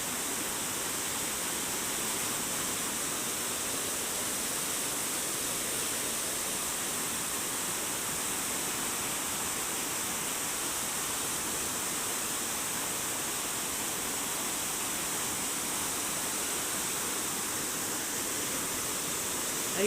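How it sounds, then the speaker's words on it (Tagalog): Steady, dense rushing water of a deep, fast-flowing river fills the whole stretch without pause, a continuous broadband roar like a fast current running close by. "Ito malalim yan. Mabilis yung agos ng tubig."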